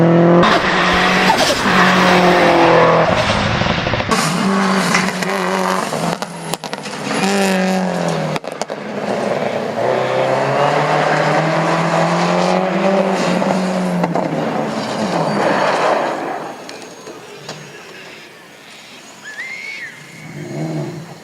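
A 2010 Subaru Impreza WRX STI GRFD is driven hard in the Need for Speed racing game, its engine revving and climbing through gears with tire squeal and skidding, loud and close, with quieter passages late on.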